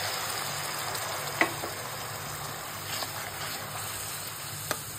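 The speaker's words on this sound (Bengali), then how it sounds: "মশলাটা ভাজা হোক, পরে শুটকি দিয়ে দিব।" Onion, garlic, turmeric and chilli masala fries in a pan with a splash of water, giving a steady soft sizzle with a couple of sharp clicks from stirring.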